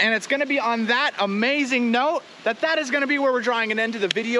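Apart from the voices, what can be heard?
No everyday noises stand out.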